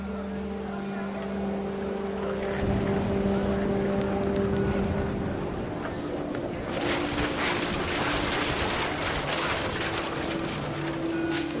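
Rain pours down in What Remains of Edith Finch, a broad hiss that swells in partway through over a soft musical drone and a narrating voice, then holds steady and full.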